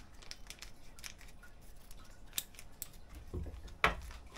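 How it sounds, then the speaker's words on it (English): Scissors snip open a seed package before planting poinsettia seeds for bonsai, a few faint, quiet cuts and rustles with a sharper snip near the end. "so I'm gonna use the scissors."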